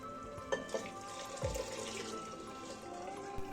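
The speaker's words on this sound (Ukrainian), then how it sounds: "я вливаю до казана бульйон" Strained broth pours into a cooking pot in a steady, soft liquid stream with a few splashes and clinks, heard close and fairly quiet.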